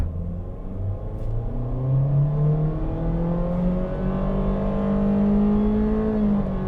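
A small SUV with a transmission that jumps straight to the ratio it needs pulls away hard from low speed. The engine's steady drone climbs slowly and evenly in pitch, close and continuous, with no talk over it.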